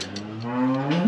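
A single cow on a farm gives a close, loud, drawn-out moo that rises and holds steady.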